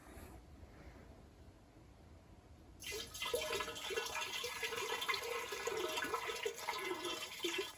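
Cherry cider pours in a steady splashing stream into a jug, the quiet start giving way to continuous loud liquid gurgle for the rest of the clip.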